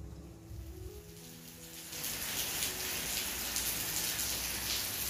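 Heavy rain pours steadily on an afternoon, starting as a softer patter and swelling after a couple of seconds into a dense, loud, continuous hiss of drops on surfaces, with no one talking.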